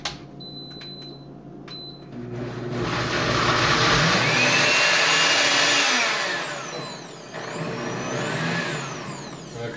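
A blender roars to life after a few quiet seconds, running loud and steady with a high whine, then dipping briefly before surging again.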